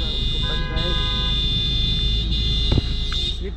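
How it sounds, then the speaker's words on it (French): A car horn sounds at the Moroccan border crossing during a vehicle search, a sustained tone over idling traffic and background chatter, with a brief knock partway through. "les petits coups de klaxon"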